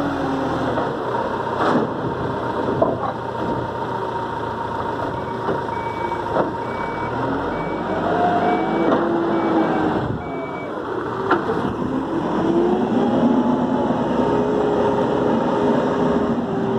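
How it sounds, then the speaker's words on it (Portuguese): A dump truck sits at a dirt-loading site while its reversing alarm beeps in a faint, regular pulse under a steady engine rumble and machinery noise throughout. "Carregamento de caminhão aí"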